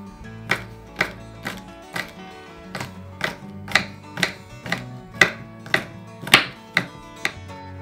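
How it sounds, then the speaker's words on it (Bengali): Green beans are chopped into small pieces with a knife on a board, about thirteen crisp, close taps in a steady, slightly uneven rhythm, with no talking. "এবার আমি নিয়ে নিয়েছি বিনসটাকেও আমি এখানে একদম কুচিয়ে কেটে নেব"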